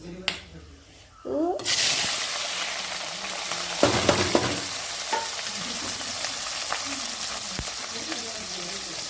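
Black pepper and whole spices drop into hot oil, setting off a sudden loud sizzle that continues steadily, with a few sharp pops and clicks of stirring over it.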